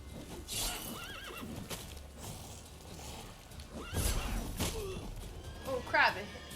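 A horse in The Witcher 3 video game whinnies and clops its hooves, with loud neighs and hoof impacts over game ambience and a voice talking underneath.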